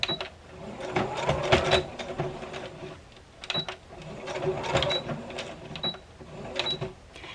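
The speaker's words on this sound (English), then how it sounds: "And I go back and forth to reinforce my stitches a lot." A sewing machine stitches elastic onto a fabric face mask, running in repeated bursts with a steady mechanical chatter, pausing briefly between passes as it goes back and forth.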